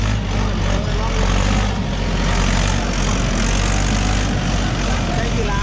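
A Mahindra 50 hp tractor driven fast in gear M3, its engine giving a loud, continuous rumbling roar close by, with voices faintly mixed in.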